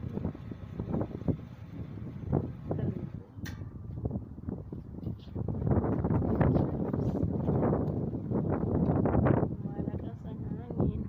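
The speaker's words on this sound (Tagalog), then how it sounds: "Ang lakas ng hangin." Strong wind gusts outdoors among flowering plants, rising into loud, rough buffeting on the microphone in the second half, with a voice talking over it.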